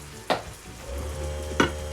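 Garlic paste hitting the hot pot of a Ninja Foodi while making loaded baked potato soup, two sharp scrapes or stirs over a low steady sizzle that builds midway.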